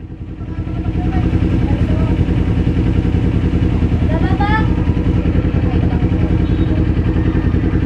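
A large motorcycle engine idles steadily and loudly throughout, a continuous low mechanical rumble with light clatter, while people talk nearby over it.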